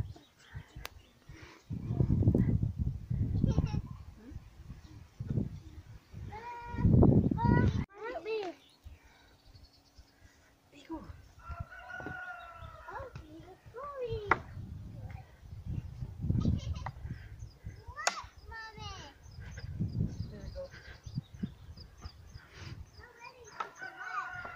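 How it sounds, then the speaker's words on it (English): A rooster crows in the background at a glamping campsite on the Isle of Arran, with several drawn-out calls spread across the clip while people talk nearby. "You can hear a rooster"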